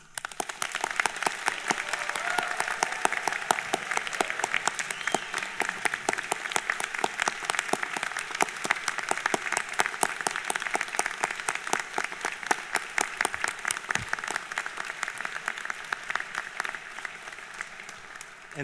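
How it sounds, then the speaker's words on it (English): A large convocation audience applauds the graduating students in sustained, dense clapping that holds steady for the whole stretch, slightly distant in a big hall, with no voices on top. "join me in applauding each of you on the completion of your programs"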